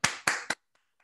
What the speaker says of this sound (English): give a big round of applause for Mr. Andre C. Hatchett